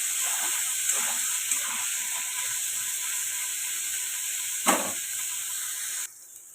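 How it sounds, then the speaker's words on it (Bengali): Crab seasoned with salt, turmeric and a little chili powder fries in oil, producing a steady hissing sizzle with a brief louder spatter, before dropping abruptly quieter near the end; no one talks. "কাঁকড়াটাকে আমি ভেজে নিচ্ছি।"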